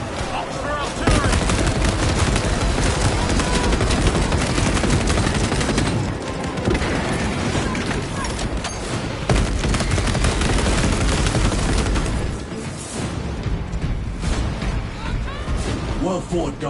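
Heavy artillery and gunfire in Warhammer 40,000: Space Marine 2, sustained loud barrages with booms and rattling fire filling the whole stretch, with voices speaking over the battle.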